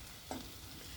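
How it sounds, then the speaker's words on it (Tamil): A spoon stirs aloo beans sabji, a no-onion no-garlic potato and bean curry, in a pan over quiet frying, with one brief scrape standing out against the low steady sizzle. "நான் 1 நிமிஷம் கிளறிட்டு இறக்கிடலாம்."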